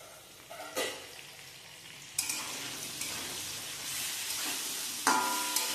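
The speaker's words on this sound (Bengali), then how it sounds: "এবার এটাকে একটুখানি খানিকক্ষণ ভেজে নেব, টমেটোটা নরম হওয়া পর্যন্ত" Slit green chillies and chopped tomato fry in a pan with a continuous crackling sizzle, broken by several sharp bursts as the pieces are stirred or spattered, and nobody speaks.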